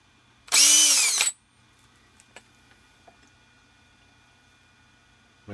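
A smoky cordless drill whirs loudly for under a second, a high-pitched motor spin that rises and stops abruptly, followed by faint scattered ticks in an otherwise quiet space beside a 1987 Snapper mower.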